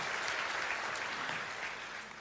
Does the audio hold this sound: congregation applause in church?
yes